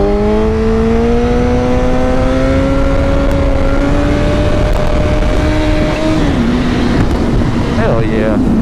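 A Honda CBR 1000 motorcycle engine revs hard during a wheelie, rising in pitch steadily with loud wind buffeting, then dropping and wavering near the end.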